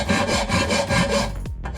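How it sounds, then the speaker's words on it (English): A metal file rasps down a weld bead on a steel plate for a custom water box, several steady back-and-forth strokes sounding loud and close with no talk. "I'm going to file down this bead of weld so that it doesn't hold the plate up"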